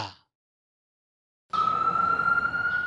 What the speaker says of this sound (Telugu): న్యూయార్క్ అంతటా ఇప్పుడు నిత్యం సైరన్ మూతలే వినిపిస్తున్నాయి